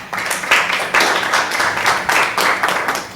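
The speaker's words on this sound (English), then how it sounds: "please clap for Kenny" An audience at a workshop claps for a colleague named Kenny, a handful of people producing loud, close, uneven bursts of hand claps with a few distinct strong strikes, no talk.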